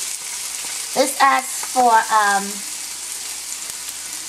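Onions sizzle steadily in a pan for homemade egg rolls, a close frying hiss heard under a short stretch of talk.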